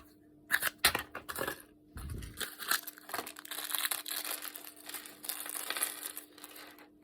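A small part for a DIY low-cost robotic hand is sanded flat by hand in figure-eight motions, giving close, scratchy rasping strokes in irregular bursts with short pauses and one low thump, with no talking.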